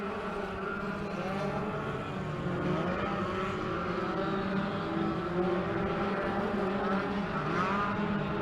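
A midget race car lapping a short oval track at Skagit, its engine droning steadily with rising and falling pitch as it circles, joined by a faint announcer voice.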